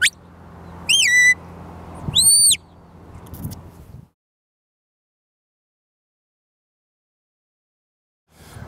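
Sheepdog whistle blown in short bursts, two rising-and-falling shrill notes near the start over low background rumble, then near silence with a faint noise at the end.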